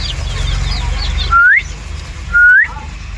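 A person gives two short rising whistles, each sliding upward, at a desi chicken farm. Soft chicken chirping and a low hum fill the background and fade quiet after the whistles.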